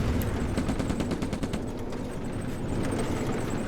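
Dense, continuous gunfire from a Stalingrad World War II battle video game: rapid machine-gun bursts and rifle shots blend into a steady, loud, crackling roar that never pauses.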